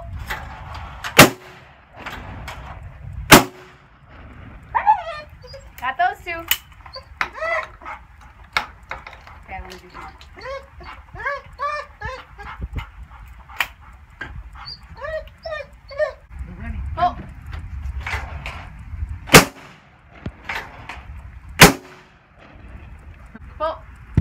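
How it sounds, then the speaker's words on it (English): Shotgun blasts at clay targets crack out sharply, around seven loud isolated shots spread irregularly across the span, while a dog whines and yips excitedly between them outdoors. "Reef and I are having a little shootout."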